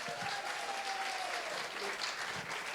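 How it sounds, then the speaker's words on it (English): Continuous audience applause at a Lincolnshire songwriting event, fairly distant and soft, steady clapping with a faint tone running beneath it. "give him another round of applause"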